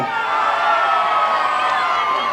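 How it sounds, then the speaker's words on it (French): A loud, wild crowd cheers and whoops at a 1988 softball match tied to a wrestling event, sustained, dense roar with shouts, some children's voices and a little talk mixed in, filling the whole moment without pause. "Et la foule est en délire"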